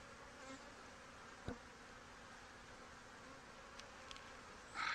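A dense, continuous buzz of many honey bees swarms from an opened hive, steady and close, with a faint tap or two and no talking.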